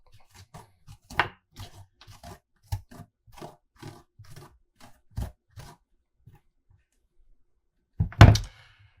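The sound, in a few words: scooping seeds out of a butternut squash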